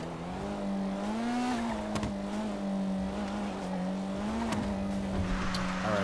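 A Camaro races in GTA 5, its engine a steady, loud drone with rising and falling pitch as it revs and shifts, joined by brief sharp tire or impact noises throughout.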